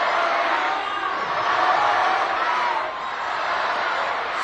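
A baseball stadium crowd at a Banana Ball game in Mesa cheering and roaring for a strikeout, a broad, sustained wash of many voices swelling and easing slightly, with no distinct talk over it.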